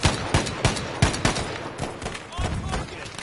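A gun fires in Battlefield V in a rapid, loud, close series of sharp shots with an irregular rhythm, set against a dense noisy background of battle.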